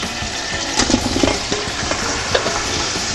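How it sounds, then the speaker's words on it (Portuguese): Chicken frying in heated olive oil in a pan, a dense continuous sizzle with crackles and small pops, close and loud, with a few stirring clicks and no talking. "E aí eu vou colocar o nosso frango lá para fritar."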